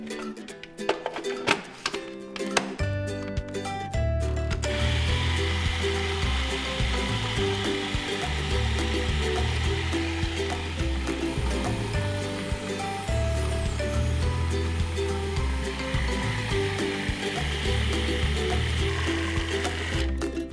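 A food processor grinds almonds from crumbs into almond butter, giving a loud, steady motor whir with a dense churning rumble that runs nearly unbroken for the whole stretch after a few brief opening bursts.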